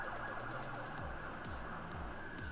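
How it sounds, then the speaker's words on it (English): An ambulance siren wails, rising and falling repeatedly in the distance, cycling every half second or so over a constant background hum. "That is some sort of siren that you hear."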